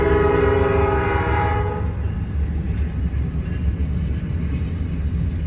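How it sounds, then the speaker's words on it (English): A train passes outdoors, opening with a loud sustained horn blast that cuts off after about two seconds, leaving a steady rumbling roll of rail cars that carries on to the end. "And there's a train"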